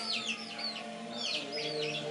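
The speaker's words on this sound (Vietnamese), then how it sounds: "Đây là mấy con gà nhà em." Chickens raised on a home farm cluck and chirp softly nearby in a quiet setting, several short rising calls repeating in a loose rhythm.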